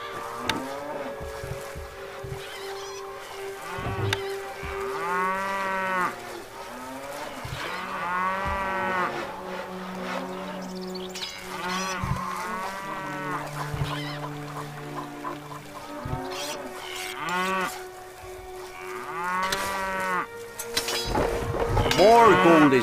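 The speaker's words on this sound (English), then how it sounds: "Our cows are struck down by a strange malady," Cattle mooing in the medieval castle-building strategy game Stronghold, several drawn-out bellowing moos in sequence over a steady game ambience, with a brief louder burst near the end.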